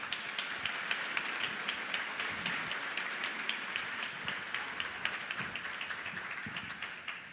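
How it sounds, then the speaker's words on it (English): Faculty and staff at a fall welcome gathering applaud in a steady, fairly distant wash of clapping with scattered sharper claps throughout. "Let's give them a round of applause."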